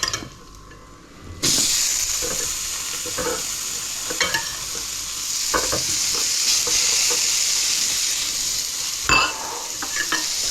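Onions drop into hot oil in a pan for a Japanese donburi rice bowl and burst into a loud, steady sizzle that runs for ten seconds, broken by a few sharp spoon scrapes and clinks, with no talking.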